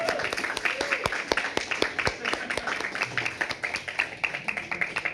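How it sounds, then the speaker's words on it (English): An audience at a public arts programme event claps in a loose, quick patter of individual hand claps, fairly quiet and close, with a few louder strikes standing out. "Where are my claps?"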